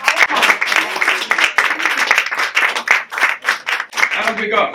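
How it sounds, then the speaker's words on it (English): A cabaret audience applauds and cheers after a card magic trick, a dense burst of clapping with voices mixed in throughout. "Give yourselves a massive round of applause"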